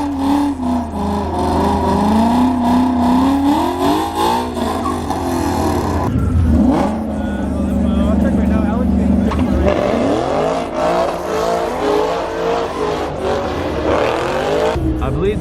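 A Ford Mustang GT500 Cobra roars loudly at a drag strip, its engine note climbing and shifting through gears, with a person talking over the throbbing exhaust.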